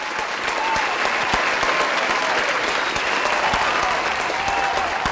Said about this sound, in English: please a big round of applause for our wonderful teams.